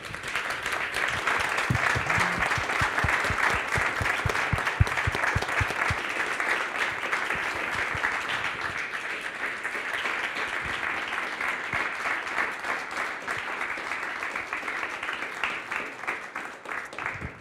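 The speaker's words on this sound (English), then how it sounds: "So maybe I will ask you for applause for our speakers." An audience at an architecture talk bursts into sustained, dense applause for the speakers, a steady wash of clapping that holds for the whole stretch without fading.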